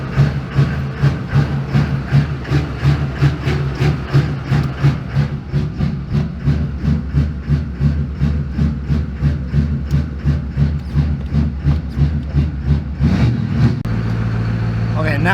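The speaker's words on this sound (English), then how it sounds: "Okay, now it's idling." A heavy Duramax diesel engine in a square-body truck idles steadily up close, its low rumble beating in a regular rhythmic pulse, then settling into a smoother, higher drone near the end.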